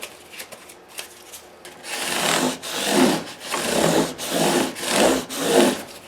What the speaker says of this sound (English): Now I follow up that 600 grit with emery cloth.